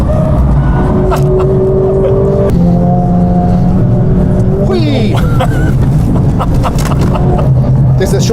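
A Mercedes-AMG car lapping the Nürburgring Nordschleife, its engine droning steadily and rising and falling in pitch through shifts, with wind and road noise throughout and a voice talking over it.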